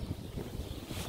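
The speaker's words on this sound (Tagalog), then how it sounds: "Lakas ng hangin eh." Strong wind blows in snowy winter weather in Winnipeg, Manitoba, a brief, rough, loud buffeting roar hitting the microphone.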